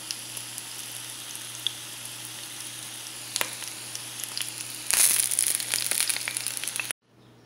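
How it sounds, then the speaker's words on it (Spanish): Jalapeño and güero chiles frying in a pan: a steady close sizzle with scattered crackles that swells into a louder, brighter burst of frying near the end before cutting off abruptly. "Ya quedaron listos nuestros chiles, ya los toreamos, ya los freímos"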